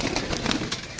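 Pigeons cooing close by at a home loft, a soft continuous burbling coo with a faint rustle of wings, no voices.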